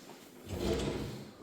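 A soft-close kitchen cabinet drawer slides shut in a newly built accessible ranch home, a quiet rumbling glide that swells and eases to a gentle stop, heard close and fairly soft.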